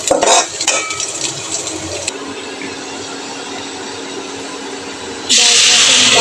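Dal is tempered with chopped onion, garlic and whole cumin in hot oil. Quieter kitchen clatter and stirring come first, then the hot tempering hits the pot with a sudden loud, bright sizzle that holds to the end.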